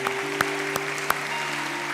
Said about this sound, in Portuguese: Vamos aplaudir ao Rei.